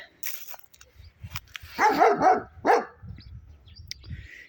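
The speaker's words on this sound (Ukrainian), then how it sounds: "І сусідська собака як завжди" A neighbour's dog barks a few times at moderate distance in a spring garden, a short cluster of barks followed by one more, with quiet outdoor background around it.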